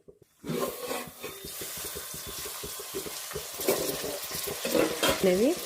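Amla and green chillies frying together in a pan, a continuous close sizzle with rhythmic scraping from stirring, ending in a couple of brief squeaky scrapes.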